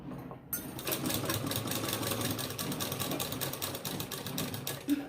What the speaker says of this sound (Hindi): अब बिल्कुल जब घूम जाए ऐसे करके फिर हम सिलाई लगाएंगे।